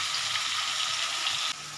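Fish head frying in hot oil in a pan, a steady bright crackling sizzle, close and constant, with a brief dip in intensity near the end.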